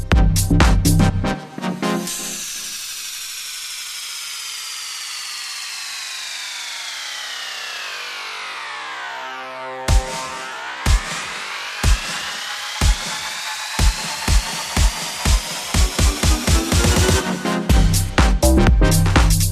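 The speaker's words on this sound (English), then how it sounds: "we should have a pretty decent riser going on" An Ableton Beat Repeat build-up riser: a loud sustained sweeping electronic tone bends and glides for several seconds, then gives way to chopped repeating hits that speed up toward a dense stuttering climax.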